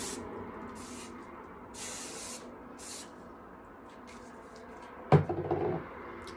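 Kevin Murphy Session Flex hairspray misting onto hair in several short, soft hissing bursts from a distance, followed by a brief rustle of handling near the end.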